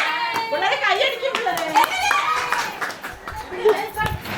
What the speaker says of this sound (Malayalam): പിള്ളേരെ കൈയടിക്കും.